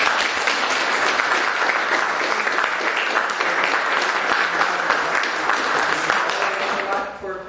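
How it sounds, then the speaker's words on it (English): Loud, sustained crowd applause at a volunteer appreciation night, a dense wash of clapping running several seconds before trailing off, with faint voices mixed in. "So a round of applause for the volunteers."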